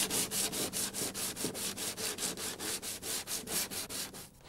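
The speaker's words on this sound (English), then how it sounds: "Sand and polish the seam on the top of the instrument pod." Rhythmic hand sanding on the seam of a helicopter instrument pod, with quick even back-and-forth strokes, close and steady, trailing off at the end.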